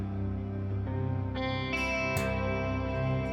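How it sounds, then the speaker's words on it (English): Electric guitar played through an Axe FX processor, drenched in echo, layered delays and reverb; sustained chords and ringing notes in C major swell and repeat, with new strums entering every half second or so, full and steady with no talking. "it's a super echoey sound. It's full of delays and reverbs"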